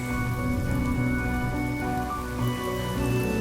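Steady rain patters on surfaces in a video game, a dense continuous hiss beneath a sustained musical score, with no speech.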